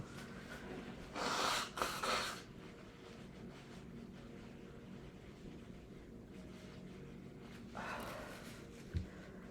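A person with a septum piercing blows their nose in two quiet, breathy bursts, one longer and one shorter, with a soft background hum between them.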